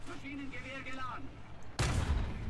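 A Leopard 1A5 tank firing its cannon in War Thunder, a single loud, broad blast that cuts in near the end after someone talks over quiet engine rumble.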